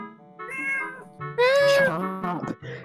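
A domestic cat meows several times in a row, close and fairly loud, its calls rising and falling with one longer, stronger cry in the middle, and no talking over it.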